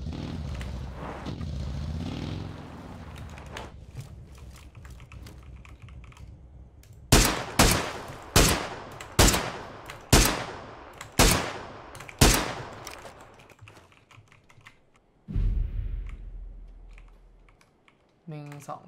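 Rapid gunshots ring out in a video game car chase, about eight sharp, evenly spaced bangs over the rumble of an engine. A vehicle roar swells near the end, and soft keyboard clicks tick throughout.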